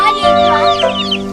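Chickens and young chicks raised from market chicks cluck and peep close by in a brief, busy burst of overlapping calls.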